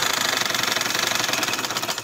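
A sewing machine runs a seam on a summer kurti with a boat neck and lace trim, making a rapid, even mechanical chatter throughout, loud and close with no pause.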